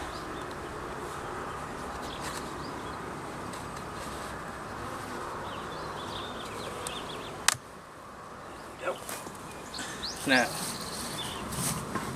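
Honey bees drone in a steady, dense buzz at an opened beehive during a beginner's first weeks of beekeeping, with a hive tool prying at a tightly glued frame; a sharp knock cuts in midway, then some clicks and scrapes follow.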